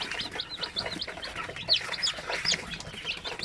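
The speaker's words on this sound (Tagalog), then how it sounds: "So ito yung bagong sisiw natin ngayong araw." Newly hatched Basilan and Zampen native chicken chicks, fresh from an incubator, peep in rapid, overlapping high chirps close to the microphone.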